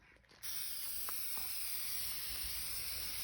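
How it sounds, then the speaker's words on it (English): Spray paint hissing steadily from a can onto a cardboard box, starting abruptly after a brief pause and continuing as one close, unbroken spray. "So Morgan, come up here closer so they can see me actually spraying the box."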